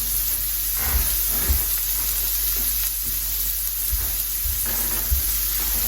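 Vegetables fry in a pan on medium heat, giving a steady, close sizzle and hiss throughout, broken by a few soft low knocks from the pan. No voices are heard.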